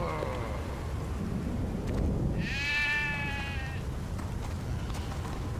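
A sheep in the video game Stubbs the Zombie lets out one clear, loud bleat in the middle, over a steady low rumbling game ambience, with no talking.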